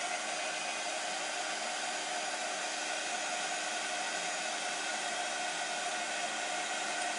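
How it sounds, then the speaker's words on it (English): Heat gun blowing steady hot air over embossing powder on a stamped card, a continuous loud broadband hiss holding even throughout with no breaks and no voices. "I'm moving my heat gun across and down, so I'm not going over the same part, and that way it won't overheat"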